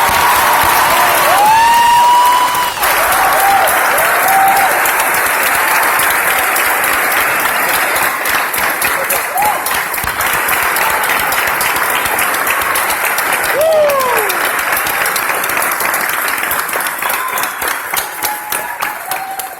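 A large graduation ceremony audience applauding steadily for about twenty seconds, dense clapping with a few cheers and whoops, tapering slightly toward the end.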